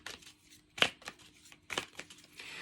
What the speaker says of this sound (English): Let's give them a shuffle.